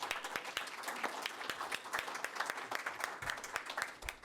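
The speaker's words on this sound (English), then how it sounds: "A round of applause for Jocelyn Dionne." Audience at a Chamber of Commerce candidate forum in Moncton-Dieppe applauds a Conservative candidate, giving steady, dense clapping that fills the room for several seconds at moderate volume.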